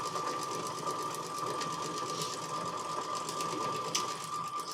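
A sewing machine stitches steadily along a line of fabric. The motor whirs in one continuous, even run and sounds close and moderately loud throughout, with no talking.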